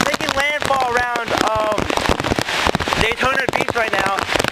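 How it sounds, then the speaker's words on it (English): Heavy rain from Tropical Storm Fay lashes down outdoors in Richmond Hill, Georgia, with sharp patters and gusty noise beneath a reporter speaking throughout. "You can really see the heavy rain coming in."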